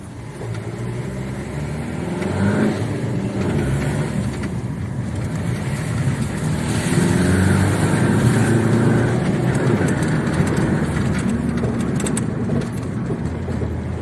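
Fiat Punto 1.3 JTD diesel heard from inside the cabin while driving: a steady low engine drone with road and wind rumble that swells as the car picks up speed, with no voices.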